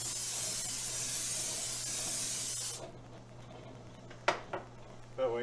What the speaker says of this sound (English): I like to spray the pan with my cooking spray.